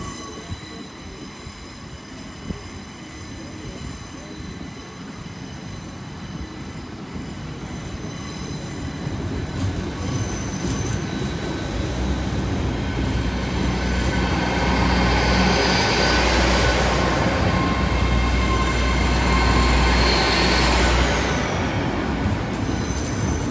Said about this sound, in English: Here comes the London train then.